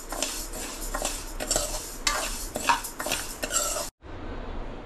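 Moong dal dry-roasting in a wok, stirred with a metal spatula: steady scraping and clinking strokes over a soft sizzle, close and fairly loud, then a sudden stop with a quieter hiss after.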